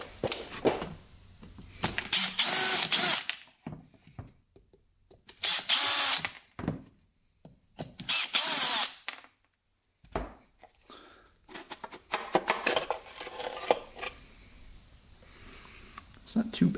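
A power drill backs screws out of the bodywork on an abandoned Suzuki RV90 bike in several loud, separate bursts, with pauses and speech between them.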